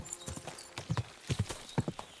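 Horse hooves clip-clop along a path in a video game, a quick, uneven run of crisp, close hoofbeats with no talk.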